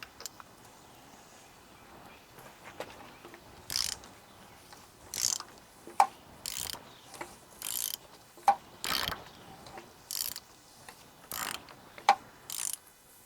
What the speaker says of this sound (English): All I'm going to do is put a socket on the crankshaft and turn it over by the crankshaft pulley.